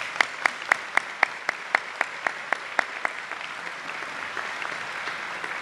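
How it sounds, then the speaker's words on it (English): Applause at a chamber of commerce annual meeting, a few sharp, loud, evenly spaced claps up close over a softer background of audience clapping that continues steadily after the close claps stop. "Let's have a round of applause for all of them."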